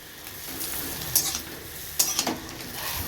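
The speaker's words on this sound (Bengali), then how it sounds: "এখন আমি আমার জন্য এই চাউমিনটুকু বানাচ্ছি চাউমিনে কিছুই দিইনি শুধু একটা ডিম আর পেঁয়াজ লঙ্কা দিয়ে বানাচ্ছি" Chow mein with egg, onion and chili fries in a pan, a soft continuous sizzle broken by two sharper scraping stirs of a utensil against the pan.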